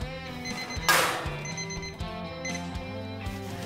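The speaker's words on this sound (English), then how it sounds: "And that's why you set a timer." A kitchen timer goes off during the cooking of roast pumpkin and labne, a steady repeating electronic ringing beep pattern heard up close, with a brief clatter early on and no talk.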